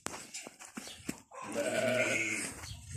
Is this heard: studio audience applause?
no